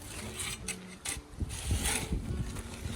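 A homemade rake scrapes and rattles through hard, dry garden soil in a Newfoundland potato patch, a close series of irregular scratchy strokes and clinks.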